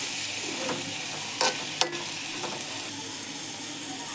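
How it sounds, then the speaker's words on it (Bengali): Vegetable fry with a cracked egg being stirred in a pan, giving a soft steady sizzle with a few brief scraping clicks of the spatula, close and alone. "যে ডিমটা দিয়ে দিয়েছি, এখন শুধু এটা নেড়ে চেড়ে আমি নামিয়ে নিব।"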